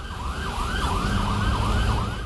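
Several emergency vehicle sirens wail continuously, their overlapping rising and falling tones loud and steady over a rumble of street traffic, heard in a city setting with no one speaking.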